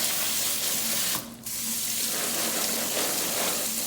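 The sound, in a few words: macadamia nuts washed under running water in a strainer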